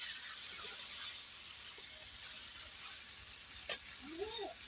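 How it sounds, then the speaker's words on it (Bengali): Potatoes fry in a pan for a village duck curry, giving a faint, steady sizzle with a few small clinks and stirring sounds. "এই পাশে এই যে মাংসের জন্য আলু ভাজি হচ্ছে, দেওয়া হয়েছে। এখন ভালো করে কষাই নেওয়া হবে।"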